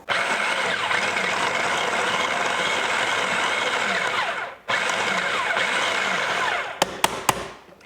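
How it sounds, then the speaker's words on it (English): A food processor whirs loudly in two long bursts with a brief pause between, then stops after a few short pulses, mixing pie crust dough for a Hoosier sugar cream pie. "So I'm just tossing this into the food processor. Then we'll pulse that about 8 to 10 times."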